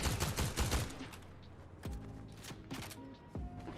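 Rapid automatic gunfire from a shooter video game, with dense bursts of shots up front, then scattered single shots and echoing reports. Moderately quiet and heard alone, without talk.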